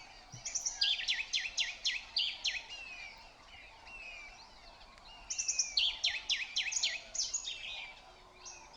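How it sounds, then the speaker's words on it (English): Long-tailed finches call at a waterhole in Kakadu, giving faint, rapid high chirping trills in two separate bursts over a soft outdoor hiss. "then some long-tailed finches arrived"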